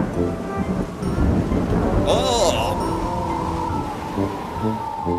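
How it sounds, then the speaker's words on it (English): Rolling thunder with rain rumbles through a thunderstorm scene in a kids' alphabet video game, a steady heavy wash with a brief brighter burst partway through. "He was scared when the thunder and lightning began."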